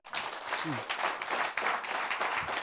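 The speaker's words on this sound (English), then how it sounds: "clap for Anne" A studio audience at a talk show claps for a guest named Anne, a steady dense patter of hands filling the room, with a brief low tone partway through.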